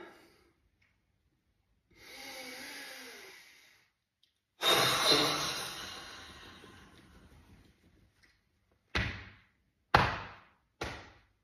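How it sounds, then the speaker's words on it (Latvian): Slow, deep breaths during a lung-health breathing exercise, with a long drawn inhale, a longer audible exhale, then several short sharp puffs of breath, close and alone without talk. "Elpojam dziļi."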